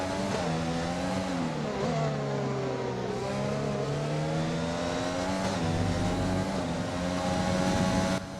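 Formula 1 race cars in the F1 2020 video game at Silverstone, engines screaming at high pitch as one car overtakes another, with revs rising and falling through gear changes, loud and continuous with no talking.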